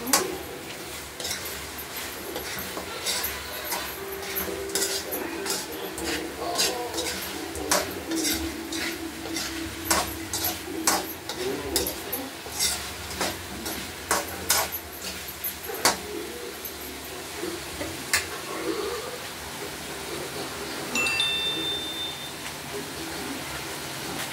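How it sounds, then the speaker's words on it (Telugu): Chicken being mixed with chili powder and other spices in a metal pan, with a spoon scraping and clinking repeatedly in an irregular rhythm over a faint background hiss, and no talking. "మిరప పొడి, అంతా మిక్స్ చేసుకోవాలి చికెన్"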